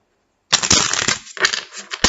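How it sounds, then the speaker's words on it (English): A deck of tarot cards is shuffled close up, a sudden riffling flutter after a moment of silence, then a pause and a second, shorter burst of papery shuffling, ending with a crisp tap. "I'll do one last shuffle here."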